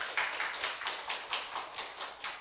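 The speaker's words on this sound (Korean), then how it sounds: "다시 한번 박수칩니다." A church congregation claps together at a night worship service, a few people's hands beating in a loose, repeated rhythm of distinct sharp slaps, fairly close and steady, with no voices over it.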